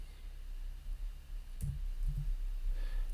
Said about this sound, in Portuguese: A cada 1 segundo ele vai clicar